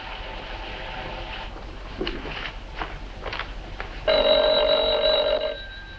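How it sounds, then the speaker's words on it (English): An old telephone bell rings in a 1950s interior, a long sustained ring near the end after some footsteps and movement, moderately loud and without talk. "Your phone's ringing."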